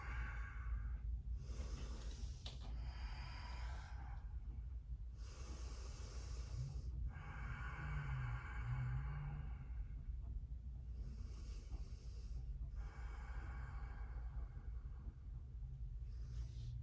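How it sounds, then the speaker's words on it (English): Slow, deep breathing during a vinyasa yoga flow, long soft inhales and exhales rising and falling over a low steady room rumble, faint and unaccompanied by speech. "Couple deep breaths."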